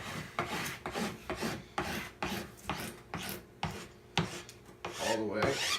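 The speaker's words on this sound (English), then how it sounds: "So take the file and work right along." A hand file rasps along trimmed edge banding tape on a wooden panel edge, with repeated close back-and-forth strokes in a steady rhythm, fairly loud and with no talking.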